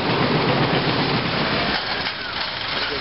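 Texas Giant roller coaster train climbing its lift hill at an amusement park, a steady loud rumbling clatter that eases slightly near the end, with no talk.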